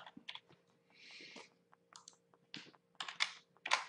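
Typing on a computer keyboard, quick irregular bursts of close key clicks with short pauses between, quiet and alone.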